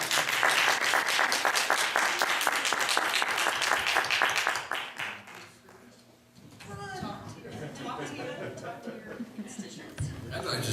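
Loud audience applause for the candidates at a League of Women Voters event, many hands clapping densely for about five seconds before fading, followed by a room of people talking and murmuring.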